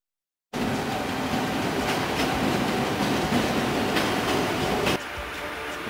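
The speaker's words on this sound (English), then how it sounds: "here we got some of the local trains coming in." Local trains rolling past a junction street in Japan, a steady continuous rumble of wheels and carriages with faint rhythmic clacks, fairly close, easing off near the end; no talking.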